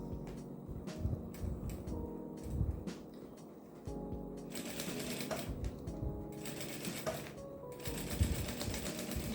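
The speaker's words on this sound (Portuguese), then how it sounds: "e vamos costurar." A sewing machine stitches a baby clothes organizer in steady whirring bursts, pausing and restarting several times, close by with no talking.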